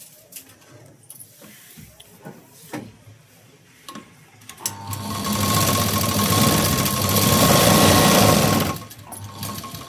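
A sewing machine stitches a pinned sleeve seam, starting after a few quiet handling clicks and taps, then running in a loud, steady close whirr for several seconds before stopping.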